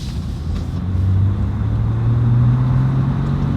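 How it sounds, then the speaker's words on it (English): A 2020 RAM 1500 Rebel EcoDiesel pickup engine runs close by with a loud, steady, low diesel rumble whose pitch climbs slowly, and no voices over it. "the other reason why you buy a diesel is for that sound"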